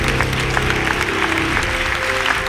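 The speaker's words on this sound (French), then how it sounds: "Un applaudissement." Audience applause fills a hall at a steady, dense level, many hands clapping continuously throughout without pause.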